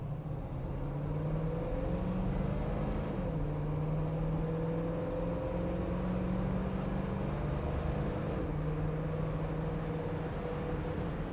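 A 1966 Ford Mustang's engine pulls steadily as the transmission runs through the gears, its drone rising and dropping with each shift under constant road noise from inside the car.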